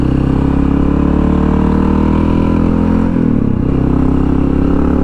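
A Honda XR650L dual sport motorcycle rides along steadily, its single-cylinder engine droning loud and close with a constant rhythmic thrum and a brief dip in pitch partway through, like a gear change, on a ride near Savage Island.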